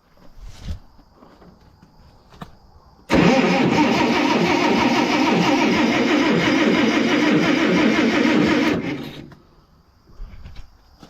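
An Allis-Chalmers D19 tractor engine fitted with a new ignition switch cranks and catches, then runs at a loud, steady roar for several seconds before cutting off. Quieter handling noises come before and after the run.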